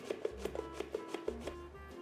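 Onion cut into very thin slices on a mandoline, making a quick run of crisp, regular close strokes at a steady rhythm, fairly soft and with no voices.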